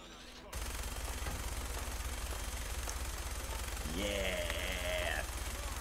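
Minigun firing in a video game, a loud continuous rapid-fire buzz of shots with a whirring mechanical tone rising near the end.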